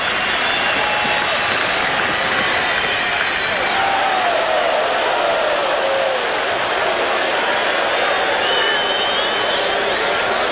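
A large baseball crowd of 18,511 at the Vet in Philadelphia, Phillies vs Pirates in 1989, roaring and applauding in a steady, dense wall of sound that stays loud and distant-wide throughout.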